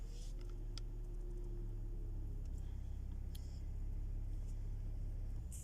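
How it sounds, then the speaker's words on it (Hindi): A car engine idles and misfires with the air conditioning switched on, giving a steady low rumble with faint intermittent ticks and clicks above it and no voices. "अभी इसने दोबारा मिसिंग करना जो है स्टार्ट कर दी है।"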